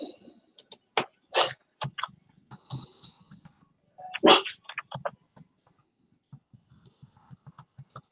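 A dog barks in short, sharp bursts spread across a quiet room, some loud and close, others fainter yips, with gaps of near silence between them.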